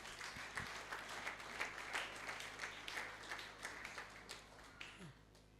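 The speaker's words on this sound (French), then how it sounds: "Une fois de plus, acclamons très très fort." A church congregation claps and applauds steadily at a moderate distance, with a dense patter of hands that rises and falls slightly and thins toward the end.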